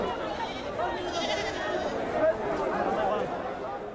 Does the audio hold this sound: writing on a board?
no